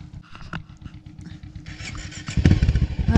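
A motorcycle starts off in a village in Morocco, its engine putting at close range with clattering, then revving louder and rougher as it pulls away.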